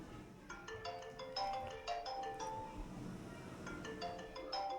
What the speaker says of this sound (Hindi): एक मिनट, सॉरी, मैं फोन को साइलेंट कर देता हूँ थोड़ा सा।